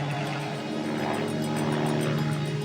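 An old Piper light aircraft drones steadily in flight, its propeller engine giving a constant, loud, even hum with no break.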